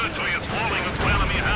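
Gunfire and heavy mortar fire from a WWII strategy game battle with Panzer tanks, a dense continuous barrage of shots and blasts with a voice talking over it.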